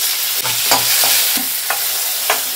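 Urad dal, mustard seeds, cumin and curry leaves sizzle in about three spoons of hot oil, a loud continuous hiss broken by several sharp crackles and stirring scrapes, with no voices.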